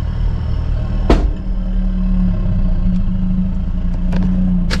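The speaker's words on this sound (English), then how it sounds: "my diff sounds so bad" Low, rough grinding and droning from a damaged differential steadily while driving slowly, with a couple of sharp knocks over the top; no talking.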